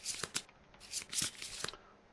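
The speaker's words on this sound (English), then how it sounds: "Shuffle these." A deck of Kingdom Death board game cards is shuffled close up and quietly, with several crisp riffling bursts in quick succession.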